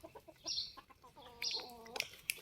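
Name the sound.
chickens clucking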